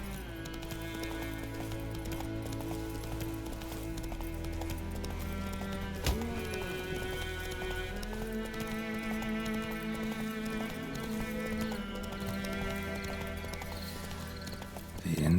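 Horse hooves clip-clopping at a steady pace in The Witcher 3, a continuous rhythmic beat heard alongside game music and ambience, with a brief whinny.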